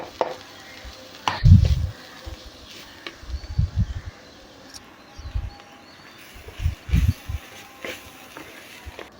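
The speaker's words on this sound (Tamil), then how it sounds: "இப்போ நம்ம மசாலாவை போட்டு பச்சை வாசனை போகிற வரைக்கும் கொஞ்சம் கிளறி கொடுக்கலாம்." Masala stirred into sautéing carrots and beans in a pan, heard as intermittent scraping and stirring knocks over a faint sizzle, close by with no talking.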